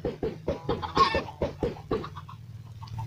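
Minecraft chickens in a crowded coop cluck in a quick, regular series of sharp, close bursts, roughly eight in a row, then trail off into softer, sparser clucks.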